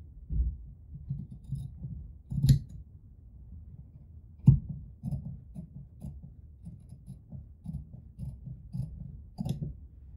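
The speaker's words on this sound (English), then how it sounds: "Be careful, don't cut both layers, cut only above layer." Sewing scissors snip through the top fabric layer of a seam, giving soft, close, intermittent cuts. A few sharper clicks of the blades closing stand out against a quiet room.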